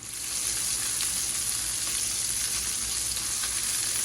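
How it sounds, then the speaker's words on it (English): Swedish meatballs brown in a skillet with a loud, steady, close hiss of frying that runs unbroken throughout, with no talk. "So I'm going to go ahead and start flipping these guys around."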